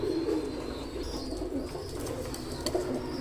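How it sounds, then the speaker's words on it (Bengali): Pure Oman Teddy pigeons cooing softly nearby, low repeated throaty coos over a quiet indoor background. "ভিওয়ার্স স্ক্রিনে যে দুইটা কবুতর দেখছেন এটা উস্তাদ আলী সাবানে একশো আঠাশ নম্বর টেরি দেখেন"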